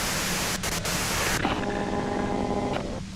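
Broadband white noise static in the game Disco Elysium, a loud continuous hiss with a brief dip partway through, shifting into a humming tonal layer under the static.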